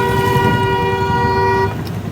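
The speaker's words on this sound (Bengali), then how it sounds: "সঙ্গে গাড়ির আওয়াজ, প্যাঁ প্যাঁ প্যাঁ প্যাঁ।" A car horn blares in one sustained, loud honk for over a second and a half amid traffic rumble on a narrow, jammed road, with vehicle noise continuing after the horn stops.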